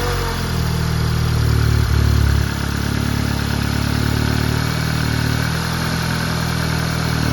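Freshly rebuilt Volkswagen Golf Mk7 R engine running at a steady idle on its first start, a loud continuous low hum with one brief swell near two seconds, no talk over it.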